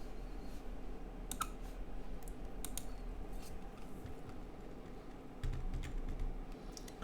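Keyboard shortcuts are pressed on a computer keyboard, sharp separate clicks and short taps spaced irregularly over a low steady hum, close and fairly quiet, with no talking.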